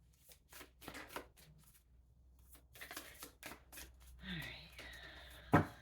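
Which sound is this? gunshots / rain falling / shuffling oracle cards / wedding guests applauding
shuffling oracle cards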